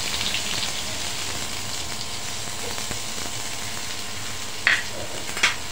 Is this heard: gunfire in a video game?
no